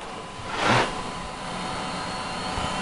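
SCSI hard drive spinning up inside an IBM eServer xSeries 220, a brief rising whir over steady server fan hum, followed by continuous whining drone.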